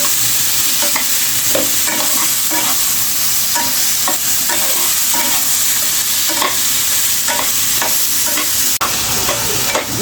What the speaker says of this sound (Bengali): এখন এটাকে নেড়ে চেড়ে ভালো করে কষিয়ে নেব।